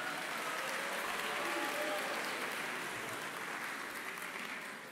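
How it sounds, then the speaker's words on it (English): Applause from a large audience fills a hall at a university student-athlete awards ceremony, steady and dense throughout, tapering slightly near the end. "please give all those folks a round of applause for making this happen tonight"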